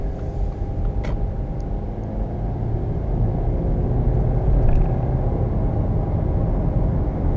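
Interior rumble of a Subaru Impreza accelerating on the road, a loud, steady low engine and road drone that builds slightly in the middle, heard from inside the car with no talking.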